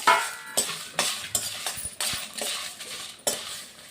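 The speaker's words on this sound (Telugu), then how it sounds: "ఈ దినుసులన్నీ చక్కగా వేయించుకోవాలి పచ్చివాసన పోయేలాగా డ్రై రోస్ట్ చేసుకోవాలండి" Chana dal, urad dal, sesame seeds and dried red chillies dry roasting in a pan for wood apple pulihora, with a metal spoon clinking and scraping in repeated strokes against the pan, fairly close and alone.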